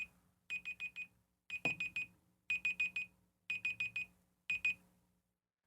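A phone alarm beeps in quick bursts of four high, bright tones. The groups repeat about every second and are fairly faint and clear, with no talking.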